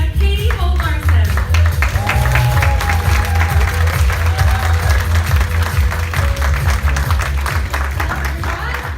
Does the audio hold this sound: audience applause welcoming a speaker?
yes